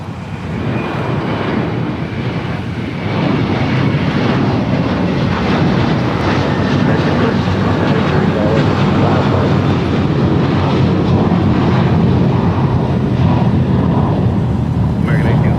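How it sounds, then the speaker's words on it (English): A Qantas Airbus A380-800 arriving at Los Angeles International Airport on its flight from Sydney produces a loud, sustained jet roar that holds steady and swells slightly, overlaid by someone speaking and air traffic control chatter. "And on the north side, Qantas Flight 11 coming in from Sydney. This A380 800."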